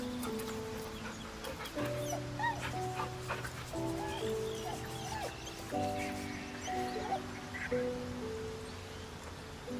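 A dog whimpers and gives short yips in Baldur's Gate 3, repeated plaintive cries over a steady bed of background music and ambient rain-like noise.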